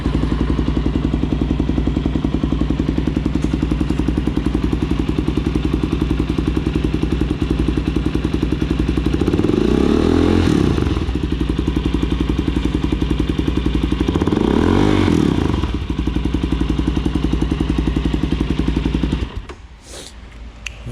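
A 2019 Suzuki DR-Z400SM supermoto runs close and loud with a rough, thumping single-cylinder idle, revved twice in swelling bursts before settling back and cutting off near the end.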